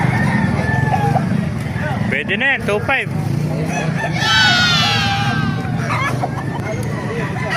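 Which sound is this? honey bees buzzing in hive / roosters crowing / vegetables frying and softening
roosters crowing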